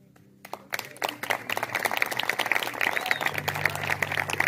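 Wedding guests break into applause for the couple: after a brief quiet start, dense crowd clapping swells and holds steady at moderate volume, with faint voices mixed underneath.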